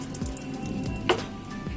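Dry red chillies, bay leaf and whole cumin fry in a little oil in a wok, giving a soft, continuous sizzle with a small clink, heard briefly and without talk.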